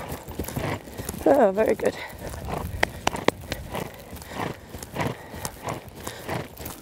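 Hooves of a young event horse in a collected canter during cross-country training, a rhythmic clip-clop under a rider's encouraging talk.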